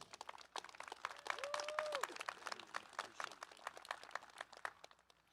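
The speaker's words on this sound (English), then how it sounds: "Could we give another round of applause for Akeelia?" Scattered applause from a modest audience at a community college commencement, individual claps audible in a loose rhythm, with a brief tonal whoop partway through before the clapping thins out.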